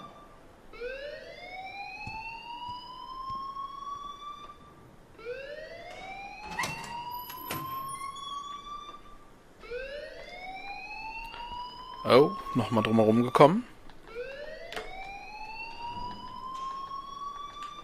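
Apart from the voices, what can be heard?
alarm ringing in the video game Life is Strange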